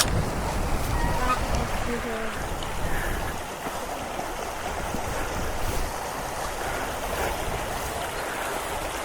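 Steady rushing of the River Reed in Northumberland, a broad continuous wash that stays fairly even throughout with no voices.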